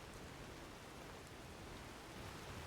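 Steady, dense hiss of freezing rain falling in the game Skyrim, a constant wash of droplets with no voices, even and unbroken throughout.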